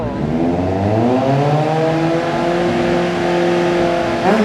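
Close and loud, a 2016 Kawasaki Z800 with a Yoshimura slip-on exhaust revs up and holds a high steady note, its pitch climbing smoothly before a brief throttle blip at the end.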